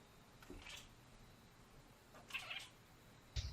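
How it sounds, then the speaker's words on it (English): A Savannah cat meows faintly from a played video, with two short meows and a sharper call at the end over quiet background. "Talking savannah cat."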